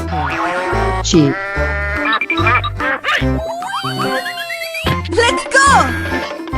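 Cartoonish sheep bleats from a 3D animal sliding video game ring out loud and close in several wavering calls, layered over bouncy game music and effects.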